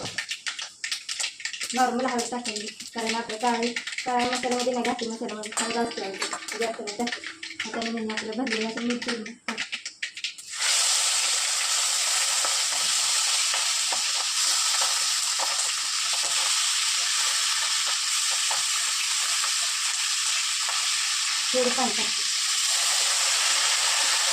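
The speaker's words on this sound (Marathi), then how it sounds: "तेल टाकले आवाज येते तुम्हाला मी मोहरी टाकली बरं जिरा आहे" Mustard seeds and cumin hit hot oil in a pan, bursting into a loud, steady hiss and sizzle that runs unbroken for over ten seconds after someone talks over the cooking at first.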